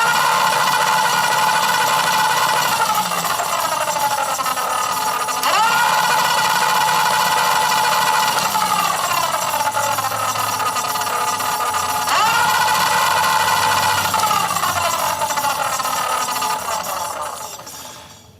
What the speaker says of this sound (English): Give it full throttle and switch from high to low to make sure you can see a